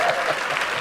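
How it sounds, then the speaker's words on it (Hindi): A studio audience claps loudly for arriving guests, a dense, steady burst of applause filling the short moment. "जोरदार ताली हो जाए यार हमारे मेहमानों के लिए"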